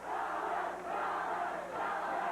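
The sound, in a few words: wrestling crowd cheering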